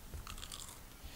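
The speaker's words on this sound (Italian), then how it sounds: "come se masticasse una schiacciatina" Crunchy chewing-like game sound effect from Terraria, a short burst of crisp crunching bites, moderately faint and heard alone without talk.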